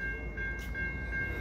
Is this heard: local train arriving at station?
yes